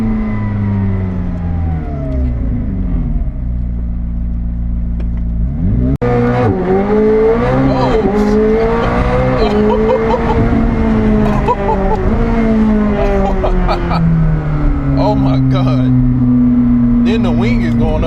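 A McLaren 765LT sports car engine heard from inside, a loud sustained drone whose pitch sweeps up and down through gear changes and revs, with a sharp click partway in and occasional talk over it.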